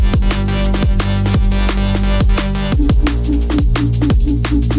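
Punchy liquid drum and bass groove: a deep bass line sidechained to duck rhythmically under each kick, with crisp hi-hats and snares driving a fast steady beat.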